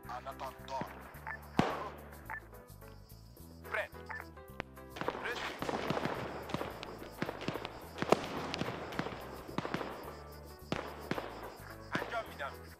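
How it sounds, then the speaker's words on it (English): Scattered sharp gunshots crack in the distance amid a busy game soundscape, with people talking over the action and footsteps shuffling nearby. "You're hearing some gunshots go."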